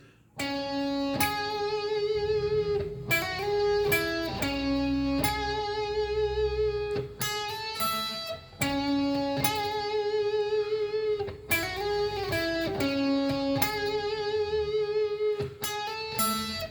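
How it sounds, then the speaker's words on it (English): A bright electric guitar lead riff plays a repeating melodic phrase with clean picked notes and chord stabs, steady and up close, no voices. "it starts off with a very cool lead riff, which sounds something like this."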